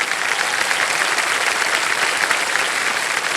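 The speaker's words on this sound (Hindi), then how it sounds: "ताली बज जाए इनके लिए।" A studio audience on the TV quiz show KBC claps loudly and steadily for a contestant, a dense, even burst of applause with no voices over it.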